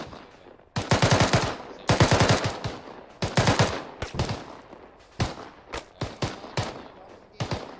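Gunfire in a military video game, loud bursts of automatic fire in several rapid clusters followed by scattered single shots, close and punchy with short pauses between volleys.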